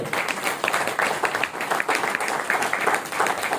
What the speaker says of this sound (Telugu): grand applause